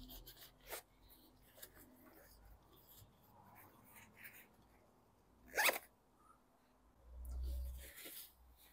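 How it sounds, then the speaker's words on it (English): The zipper on the lid pocket of an Osprey Exos 48 backpack, a short sharp zip rasp midway through, among soft rustling and handling noises, with quiet talk in between. "The Exos 48 under the lid comes with a zip pocket where I usually keep things like my wallet and phone"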